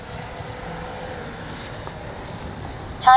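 A Freewing 80mm Avanti S V2 RC jet with its gear down comes in to land, its ducted fan giving a steady distant whine, with a brief louder burst at the very end.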